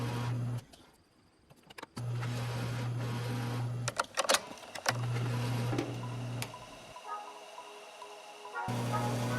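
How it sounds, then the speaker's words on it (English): A drill with a 1-inch Forstner bit bores dowel holes in wood for a Pikler climbing triangle. The motor hums in several bursts separated by short pauses, with clunks and handling noise between the runs. "I then use a 1-inch Forstner bit to add the holes that will hold the dowels."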